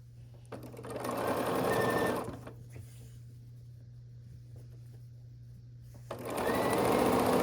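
A sewing machine stitches quilt block units together in two steady bursts, one near the start and one at the end, with a quiet pause and faint handling sounds between them.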